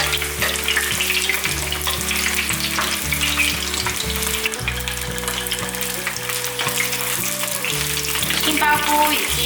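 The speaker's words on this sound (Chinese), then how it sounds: "现在来煎香肠，这香肠是昨天做的，蒸好之后稍微退冰，现在放下来煎。" Vegetarian sausages sizzle and fry steadily in a pan beside browned king oyster mushrooms, a continuous crackling hiss running the whole time beneath soft background music with no speech.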